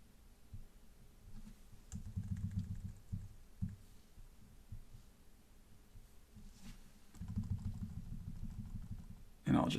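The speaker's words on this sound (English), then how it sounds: "And I'll just move the cursor over my keyboard and type" Computer keyboard typing while entering a hostname during a server setup, heard as soft clustered clicks in two main bursts with quieter scattered keystrokes between them, near and moderately loud.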